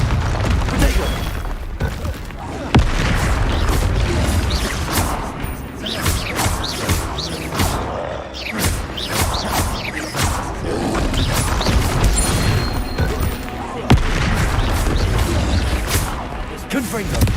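Fire-spell explosions and crashing blasts in the Hogwarts Legacy video game, loud repeated booms and smashes over a dense game soundtrack, with a voice talking throughout.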